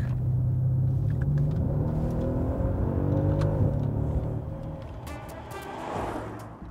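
A Mercedes-AMG S63 engine revs up with a deep, rising growl that climbs in pitch, then eases off into a lower rumble as it fades.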